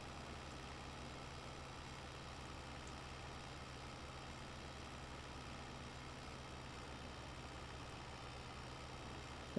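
A Farming Simulator 22 tractor engine idles with a steady, low rumble without a break, smooth and even, with no voices over it.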